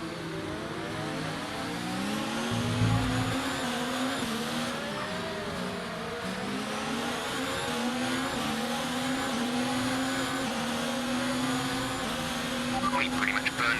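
Formula 1 race car engine in F1 2019 on the Mexico track, an Alfa Romeo car driving in career mode, a steady high-pitched whine that rises and falls through gear changes, loud and continuous with occasional lower rumbles.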